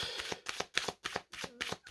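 Cards are handled and drawn from a deck, a rapid series of crisp papery flicks and riffles in short bursts with gaps between, close and fairly quiet.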